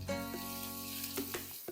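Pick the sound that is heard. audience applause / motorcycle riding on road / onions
onions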